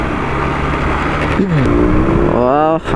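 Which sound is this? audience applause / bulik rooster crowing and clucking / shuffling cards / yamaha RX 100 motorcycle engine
yamaha RX 100 motorcycle engine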